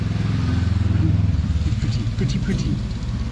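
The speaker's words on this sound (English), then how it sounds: "sometimes I lose concentration because I hear the sound of a motorbike" A motorbike engine drones steadily nearby, its rumble rising and falling slightly as it passes, with faint clattering over the top.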